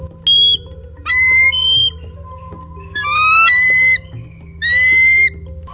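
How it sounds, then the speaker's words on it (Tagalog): An eagle gives its real call: four loud, high, piping whistled bursts with a thin, slightly wavering, plaintive tone, close by over a low steady hum. "Ito, ang tunog ng agila."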